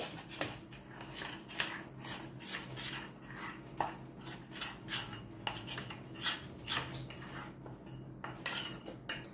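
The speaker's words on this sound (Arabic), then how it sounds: "كنبقى نحرك في الحليب." A utensil stirs and scrapes steadily in a pot of melted butter, milk and cornstarch, making continuous close metallic clinking and scraping in an irregular rhythm with no voices.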